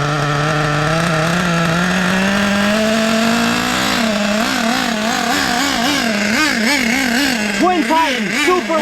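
The twin 26 nitro engines of an Ofna Twin Titan RC car idle and then rev up and down in quick, rising bursts, growing louder and more erratic toward the end, with no talk.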